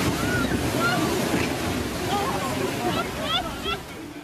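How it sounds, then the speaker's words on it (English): Storm waves driven by high winds and high tides crash against the seafront in Great Britain, a continuous rough roar and wash with faint voices and wind noise mixed in. "the same deadly combination of high winds and high tides threw the biggest waves in living memory against the seafront."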